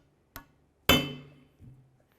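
Two sharp metallic hammer blows on a 19mm socket, driving a slider boot into a brake caliper bracket on a 2001-2006 Silverado 2500 HD: a light tap, then a louder ringing strike that decays, and a soft dull knock after.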